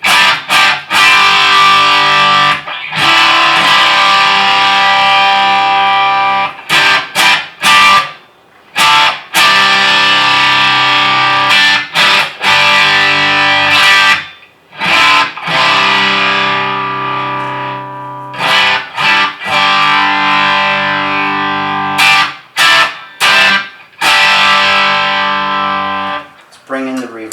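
Loud, gritty electric guitar chords through a distortion pedal, set to heavy gain, ring out and sustain, broken by brief silent gaps between strummed phrases.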